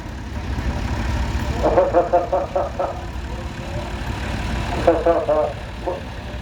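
A restored Case 446 garden tractor engine runs with a low steady rumble at an outdoor old machinery show and parade, while someone talks over it.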